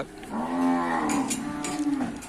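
At a Thai cattle market, cattle low in two drawn-out moos, the first louder and nearer, the second shorter, over a busy background of faint clatter and distant noise.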